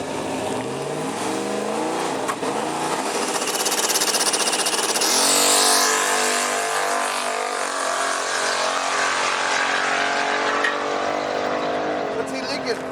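A turbocharged LS-swapped Fox-body Mustang makes a quarter-mile drag pass with a loud, sustained engine roar. The pitch climbs through the run and the sound stays dense and close throughout.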